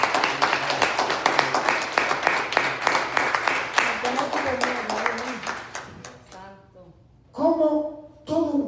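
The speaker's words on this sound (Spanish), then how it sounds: "Denle un aplauso al Señor." Church congregation breaks into rhythmic applause, fast steady clapping that tapers off as voices and cheering rise above it, with someone speaking near the end.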